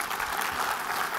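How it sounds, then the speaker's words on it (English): Audience applause fills a conference session, a steady wash of clapping from many hands sustained evenly and fairly close throughout. "hey, we finally got an applause."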